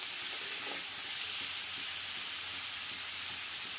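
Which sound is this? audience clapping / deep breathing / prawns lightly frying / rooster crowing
prawns lightly frying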